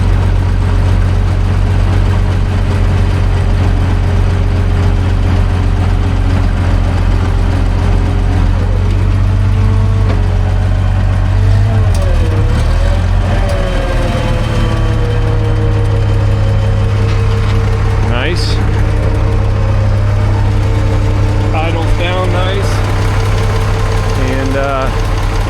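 A G950 grader engine idles outdoors with a steady, deep, rumbling drone and a slight knock, holding even throughout while a voice talks over it.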